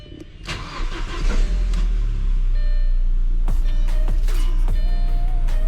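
A car cranks and starts after a DIY fuel pump replacement, then settles into a steady, close idle. A few sharp clicks or knocks sound over the running engine.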